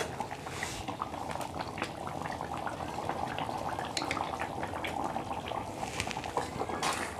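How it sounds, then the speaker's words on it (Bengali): Elephant foot yam and duck egg simmer in water in a covered pot, giving a quiet, steady bubbling with small gurgles and drips throughout. "দু মিনিট ফুটিয়ে নেব।"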